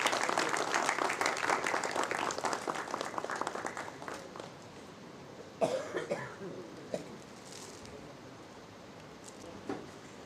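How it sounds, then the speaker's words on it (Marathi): Audience at a Marathi book publication event applauds, the clapping loud and dense for the first few seconds, then thinning to scattered claps and a cough or two in a quieter room. "टाळ्या वाजवूया."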